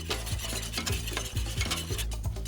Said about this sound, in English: Whisk these ingredients until the sugar and salt crystals are dissolved